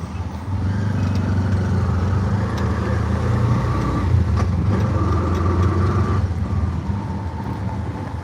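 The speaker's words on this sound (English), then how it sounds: "Here's what a tuk-tuk ride looks like." Steady, loud rumble of a tuk-tuk ride in Cambodia, with a droning engine and road noise continuing throughout and no voices.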